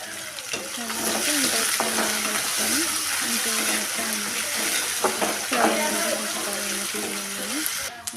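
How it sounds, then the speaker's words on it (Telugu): Peanuts frying in a pan for upma, a steady crackling sizzle throughout, punctuated by scraping stirs, close and fairly loud, with no one speaking. "ఇప్పుడు పల్లెలు వేసి ఇవి మొత్తం వేగే వరకు వేసుకోవాలన్నమాట"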